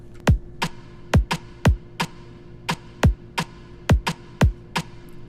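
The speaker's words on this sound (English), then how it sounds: "Essentially, we're gonna wanna make what's called a break beat." A punchy, syncopated drum and bass break beat with thudding kicks and snappy snare hits in a fast, rolling pattern over a low steady hum.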